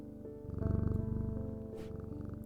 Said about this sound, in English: Oh, is that a cat?